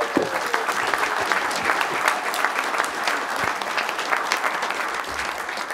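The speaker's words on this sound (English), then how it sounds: "Give them a big round of applause" Applause from a tribal council meeting audience for visiting Fort Gibson High School sophomore students, a steady dense round of clapping from a crowded room, moderately loud and sustained throughout without talk.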